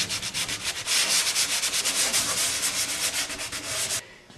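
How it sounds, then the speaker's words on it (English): Primer on a metal aircraft finish is sanded by hand in fast, even back-and-forth strokes. The rasping is loud and close and stops abruptly just before the end. "primer needs to be sanded regardless"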